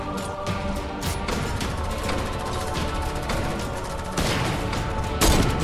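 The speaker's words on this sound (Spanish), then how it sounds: "Acá hay balazos, acá hay balazos." Dense, continuous gunfire in the video game Fortnite, with rapid overlapping shots and crashes, loud and sustained throughout, with a heavier burst near the end.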